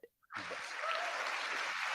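Audience applause from a played comedy clip, a dense wash of clapping that starts abruptly after a short pause and holds steady and loud to the end, with no talk over it.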